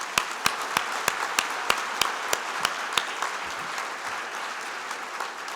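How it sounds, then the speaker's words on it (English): Summit attendees at an opening plenary applaud project funders, a crisp, rhythmic clap from one nearby pair of hands punctuating a steady crowd applause that gradually fades toward the end. "So now can we give those folks a round of applause?"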